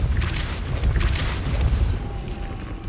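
A Depulso force spell cast in the game Hogwarts Legacy, giving several dull booming bursts over a low rumbling game backdrop, loud and close, with no talk.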